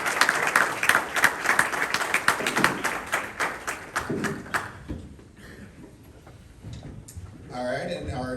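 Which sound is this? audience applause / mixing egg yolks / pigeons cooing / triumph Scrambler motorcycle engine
audience applause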